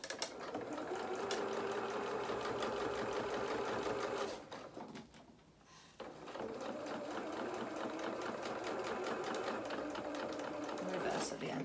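A sewing machine stitches a seam on ribbon bloomers, running steadily at close range, pausing briefly near the middle before starting up again and continuing to the end; a voice talks over it.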